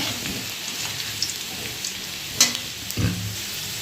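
A whole cardamom pod and a piece of cinnamon sizzle softly in hot oil, a constant hiss broken by a few sharp pops and spits.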